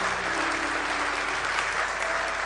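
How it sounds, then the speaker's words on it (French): A church congregation applauds and cheers steadily during worship, a dense, continuous wash of clapping that fills the space from start to finish without breaks. "Oui, tu peux acclamer le Seigneur."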